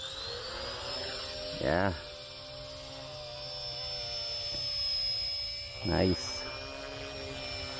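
A small RC helicopter flying close by, its steady whining rotor and motor hum holding level with a few brief louder swells, while people speak a little over it.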